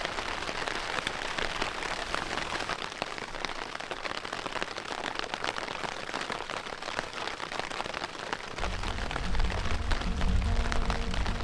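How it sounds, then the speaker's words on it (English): Rain falls steadily at a campsite on Vancouver Island, a dense patter of drops on surfaces that grows slightly louder and fuller near the end, with a low rumble joining in. "And so to see rain, usually when I'm camping and there's rain, it's a real bummer, but this time it's not at all."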